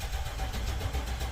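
A Chevy 3/4 ton truck engine cranks over without catching, a steady low churning drone that continues close and unbroken throughout.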